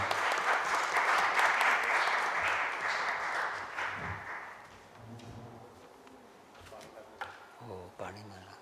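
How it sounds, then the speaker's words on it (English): An audience at the inaugural ceremony for the Indian Philosophical Quarterly's 50th anniversary gives a warm, sustained round of applause that swells, then tapers off, followed by quieter shuffling and a few clicks. "Please join me in welcoming Professor Deshpande with a warm round of applause"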